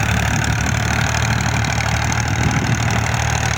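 An old 1979 Fiat 480 single-lever tractor works under heavy load pulling a large rotavator, its engine giving a steady close, loud, even chugging drone with no break.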